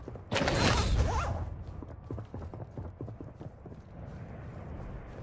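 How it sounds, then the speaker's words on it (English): Footsteps in the video game Call of Duty Warzone, a steady run of clopping steps following a brief loud rush of noise, moderately near amid game ambience. "I heard footsteps in here."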